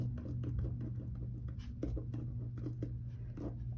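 A pen scratches quick handwritten strokes onto a paper cash placeholder, a soft, close run of short scritches and taps with brief pauses and no voices.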